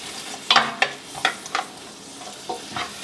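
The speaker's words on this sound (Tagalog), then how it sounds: "magigisa na tayo ng sibuyas at bawang" Onion sautés in a hot pan for a Filipino seafood noodle dish, a soft sizzle broken by several sharp scraping stirs of a utensil at uneven intervals, close and fairly quiet.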